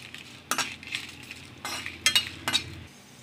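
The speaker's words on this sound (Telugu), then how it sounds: "ఇందులో మనం ఎండిమిరపకాయలు మనం వేసుకొని కలుపుకుంటూ మనం వేయించుకోవాలి" Dried red chillies fry in oil for roasted chana dal chutney, stirred with a utensil that scrapes and clinks against the pan in several distinct bursts over a soft, steady sizzle, close by with no talking.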